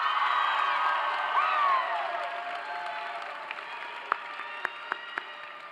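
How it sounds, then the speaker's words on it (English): A crowd at a high school graduation ceremony applauds and cheers, with whoops over the clapping at first, then the sound thins to a few scattered sharp claps near the end. "Can we get another round of applause for Anthony for creating that amazing video?"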